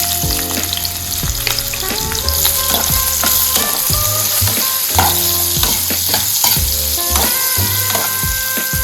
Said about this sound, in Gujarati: તેલ આવી ગયું છે તો આપણે થોડીક હિંગ અને હળદરથી આપણે વઘાર કરશું.